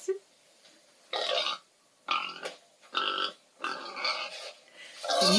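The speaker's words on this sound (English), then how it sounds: "These are pigs, aren't they?" Pigs on a farm grunting and oinking in five separate bursts with short gaps between them, fairly close and fairly loud, with no talking over them.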